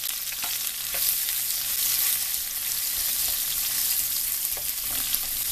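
Onions sautéing in a pan for squid adobo, a continuous close sizzle with occasional spatula scrapes and stirring taps, no voices.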